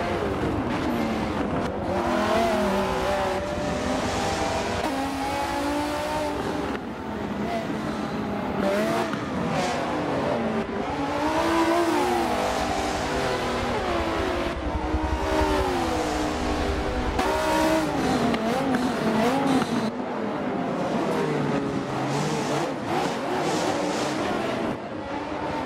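Race car engines in Forza Motorsport 7 at Circuit de Catalunya roar continuously, rising and falling in pitch through gear changes as cars accelerate and brake on the lap, loud and sustained throughout.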